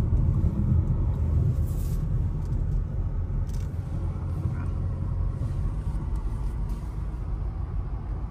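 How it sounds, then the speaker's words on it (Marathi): A car's engine rumbles low and steady as it is backed into a parking spot beside a quiet woodland cabin, a continuous close drone with faint higher noises drifting over it. "ऍक्च्युली गाडी उलटी लावतो."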